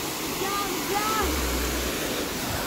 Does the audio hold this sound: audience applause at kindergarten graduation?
no